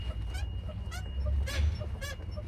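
A rubber suspension bushing on a Daewoo Nexia squeaks and whistles in repeated short, high-pitched chirps, about four of them, over a low rumbling background.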